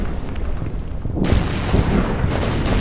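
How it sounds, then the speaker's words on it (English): Artillery fire in the Order of Battle wargame, set on Java in the Pacific war: a steady, loud rumbling barrage with a heavy boom rolling in about midway and sustaining dense, continuous blast noise to the end. "Artillery keeps firing at me."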